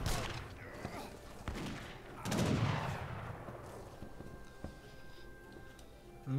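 Video game gunfire from players shooting bears: scattered sharp shots with a louder burst in the middle, set in a busy game soundscape with ringing tones and low rumble.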